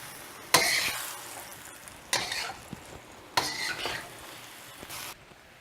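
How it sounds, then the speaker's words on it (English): Shrimp stir fry with mixed vegetables in a spicy brown sauce sizzles in a pan as it is stirred with sugar added, four bursts of scraping and hissing spaced a second or so apart, close and clear. "Stir that to give it just a little bit of sweetness"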